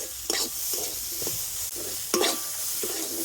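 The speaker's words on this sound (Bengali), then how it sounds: "সব কিছু দিয়ে সবজিগুলো একটু ভাজা করে নিয়েছি" Chopped vegetables with green chilies sizzle in a hot pan while a utensil stirs them in repeated scraping strokes, a steady fry with rhythmic bursts of stirring close by.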